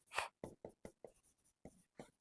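Marker or chalk strokes on a board during a biology lecture, a series of short scratchy bursts in an irregular rhythm with brief pauses between them, close and fairly quiet, with no voice over them.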